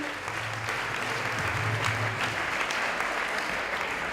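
An audience at a diploma award ceremony applauds a prize winner with a thick, even wash of clapping that holds steady at moderate volume from start to finish.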